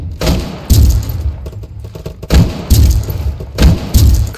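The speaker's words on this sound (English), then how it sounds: "this shotgun is really doing me wonders right now" A shotgun in a Roblox game fires in loud, booming blasts, several heavy shots spaced roughly a second apart with short echoing tails, close and dominant.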